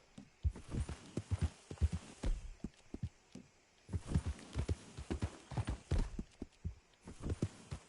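Irregular horse hoof clip-clops in Red Dead Redemption 2 patter across the whole stretch, moderately close, with bursts of quick steps and brief pauses between them.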